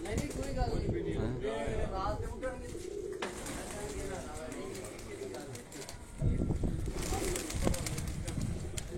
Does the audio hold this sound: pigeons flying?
yes